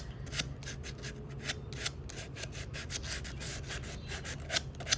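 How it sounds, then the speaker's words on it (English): A small piece of sandpaper lightly rubs over the textured surface of a faux camera, making a steady series of close, soft scratchy strokes in an even back-and-forth rhythm with no talking. "I just take a small piece of sandpaper and just go along here"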